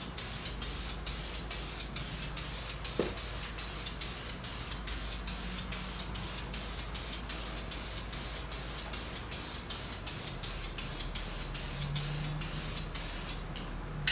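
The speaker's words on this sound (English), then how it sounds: "It's a light, far away mist of spray." Spray paint mists lightly over an M52 engine block in a steady hiss with regular pulsing bursts from the nozzle, continuous throughout and without talking.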